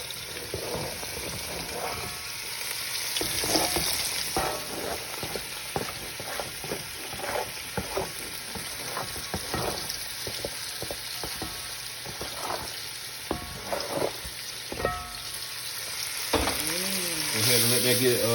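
Onions, peppers, celery and shrimp fry in an oiled pan, with a steady broadband sizzle and frequent clinks and scrapes of stirring, holding a fairly even level throughout.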